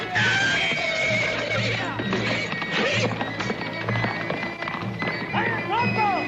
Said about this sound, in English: Creo que le pegué al caballo